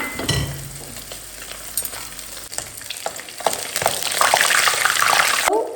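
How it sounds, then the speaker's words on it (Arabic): A brik pastry filled with egg and tuna fries in hot oil, with bubbling, spitting sizzle and stirring noises up close that swell louder toward the end before cutting off. "باش نخلي كعبة البريك نخليها في الزيت ونضيف عليها كعبة عظم ونسكر عليها"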